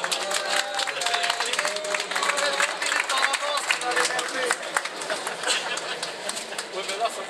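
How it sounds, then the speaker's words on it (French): Applause at a surprise birthday party, a steady dense wash of clapping from a group that holds evenly for several seconds, with voices and cheering mixed in throughout. "applaudissements"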